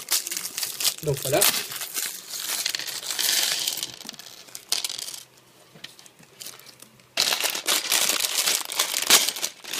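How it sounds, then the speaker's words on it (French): Plastic bags of LEGO pieces from a Legends of Chima Ice Tower set are torn open and crinkled loudly and close by, with the pieces rattling inside, while someone speaks briefly. "on va commencer par ouvrir les sachets"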